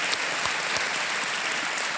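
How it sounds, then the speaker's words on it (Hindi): Studio audience on the TV quiz show Kaun Banega Crorepati applauds a contestant, a steady wash of clapping throughout, fairly even in loudness, with no talking over it. "तालियों के साथ एक बार फिर पंकज पचौरी जी का स्वागत"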